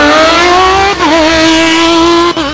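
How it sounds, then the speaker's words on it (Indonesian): Toy race car giving off an electronic engine sound: a loud, steady synthetic revving tone that dips briefly twice and climbs again, close and alone. "Ini mobil balap."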